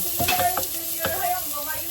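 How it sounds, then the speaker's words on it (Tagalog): Ingredients for pork leg nilaga sauté in a pan, a constant hissing sizzle with a few quick stirring scrapes near the start, heard up close and alone. "Okay, mag-gisa na tayo guys"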